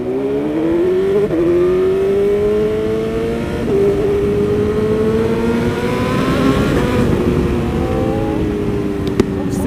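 A full-carbon BMW S1000RR motorcycle engine revving and pulling through gears on the road, loud and close with rising and falling pitch sweeps over steady wind and road noise.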